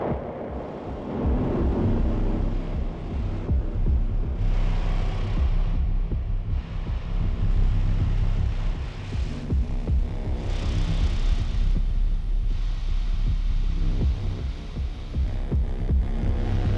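A deep, steady 30 Hz bass tone from a modular synth setup patched with old gear, throbbing continuously and loudly with a faint high hiss above it, and no talking.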